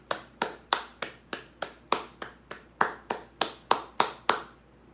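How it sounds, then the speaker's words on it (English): A steady run of about fifteen crisp hand claps from one person, evenly paced and close, fading out at the end with no voices. "Round of applause for my moderators."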